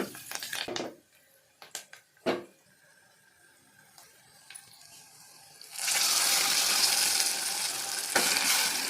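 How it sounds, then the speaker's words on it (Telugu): After a few soft clinks and stirring sounds in a quiet kitchen, gongura with turmeric and curry leaves hits hot oil in a pan and breaks into a loud, steady sizzle that continues to the end. "ఒక హాఫ్ స్పూన్ పసుపు కరివేపాకు వేసి అది కూడా ఫ్రై చేసుకోవాలి"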